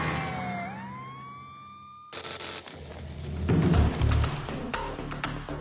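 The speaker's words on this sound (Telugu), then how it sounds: "అంబులెన్స్ కి దారి ఇవ్వండి" An ambulance siren wails and sweeps upward in city traffic, then cuts off into a sharp burst followed by rumbling road noise and passing vehicles.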